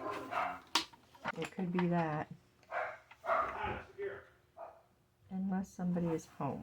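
A dog barks and yips repeatedly in a home, loud sharp barks with some whimpering, heard close under and between a person talking.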